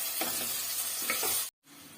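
Chicken meat fries with onions in a clay pot, a dense close sizzle with a couple of stirring scrapes, cutting off abruptly into a short silence before the sizzle resumes more faintly.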